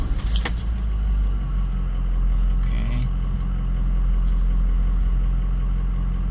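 A 2004 Ford F250 with a 6.0 Powerstroke diesel engine idles with a steady low rumble, a brief jangle of keys near the start and a single short spoken word over it.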